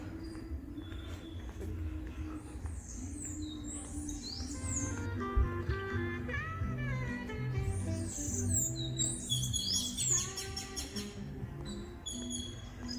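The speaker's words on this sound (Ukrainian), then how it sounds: "повсюди чути спів пташок." Many birds sing and chirp around a hotel complex, with overlapping tweets and trills at moderate distance over a soft steady background.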